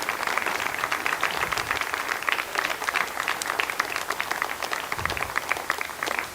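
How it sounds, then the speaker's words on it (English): Mission control staff applaud as BepiColombo separates from its launcher, sustained dense clapping from a room of people, steady and moderately loud with faint voices under it. "and you can hear the applause."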